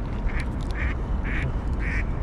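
Ducks quack four times in a steady rhythm, close and clear, at a lakeside fishing spot with a constant low wind rumble underneath.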